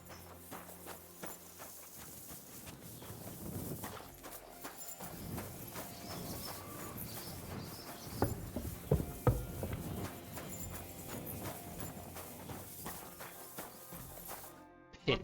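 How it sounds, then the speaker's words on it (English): A horse in Kingdom Come Deliverance 2 walks with soft, steady clip-clop hoof steps on the ground, quiet and continuous under a faint game ambience. "My, what a beautiful horse."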